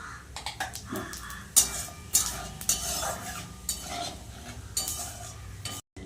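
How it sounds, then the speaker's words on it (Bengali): Cumin seeds and dry red chillies sizzle in hot oil used to fry katla fish, a quiet crackle beneath sharp metallic scrapes and clinks of a spatula against the pan, close, with a brief cut near the end. "এবার এই তেলের মধ্যে দিয়ে দেব আমি সাদা জিরে আর শুকনো লঙ্কা"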